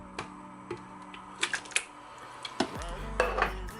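Tomatoes being tipped into a pan of onion-based sauce while cooking, with close clinks and scrapes of a utensil against the pan, a few sharp knocks, then a rising sizzle at the end.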